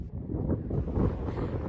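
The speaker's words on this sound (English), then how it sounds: "it's very windy up here" Wind buffets a microphone on a mountain top near Prescott, Arizona, a low, rumbling gusty roar that stays close and loud through the short stretch.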